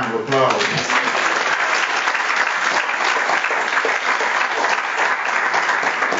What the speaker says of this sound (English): Let's give these preachers a round of applause.